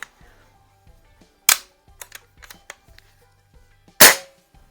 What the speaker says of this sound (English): Still a pretty loud gun even with the silencer on there.